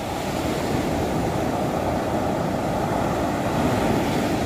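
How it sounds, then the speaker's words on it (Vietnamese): Sea waves rolling onto the beach at Nha Trang on a rough morning, a steady, loud wash of surf with wind buffeting the microphone. "Mọi người thấy sóng biển đánh vô nè."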